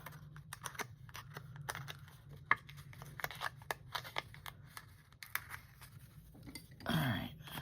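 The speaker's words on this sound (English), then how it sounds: "I'm going to rip that, poke these holes out." Paper kit ephemera is ripped and holes are poked out, producing sparse sharp ticks and crisp pops with a brief tearing rustle near the end, faint and close.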